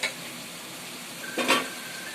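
Spice masala for a fish curry sizzles and scrapes as it is fried and stirred in a pan, with a soft steady frying hiss and a brief louder burst of stirring near the end.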